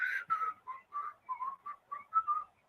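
A lone person whistles a short, bouncy tune in clear, clipped phrases, close and fairly quiet, with no talking over it.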